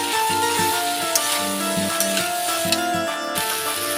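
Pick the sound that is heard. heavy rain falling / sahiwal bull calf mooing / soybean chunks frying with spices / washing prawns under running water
soybean chunks frying with spices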